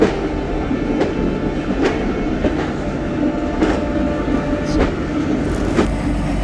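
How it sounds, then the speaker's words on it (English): The narrow-gauge Kalka–Shimla toy train rolls into Kalka station close by, its steady low rumble broken by rhythmic clacks of wheels over rail joints. "our toy train just arrived at the lovely station"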